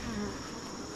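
A honey bee swarm moving into an abandoned hive gives off a dense, continuous buzz, close and steady, with no voices.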